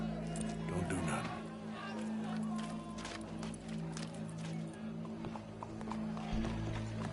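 Horse hooves clip-clopping in the video game Red Dead Redemption 2, a steady rhythmic trot heard close and fairly quiet, with game voices and background sound underneath.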